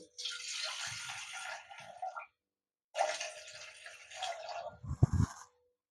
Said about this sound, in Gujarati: અને એમાં આપણે પાણી નાખશું